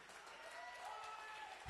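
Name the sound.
congregation clapping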